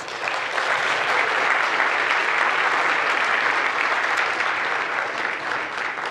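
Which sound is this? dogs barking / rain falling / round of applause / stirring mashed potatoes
round of applause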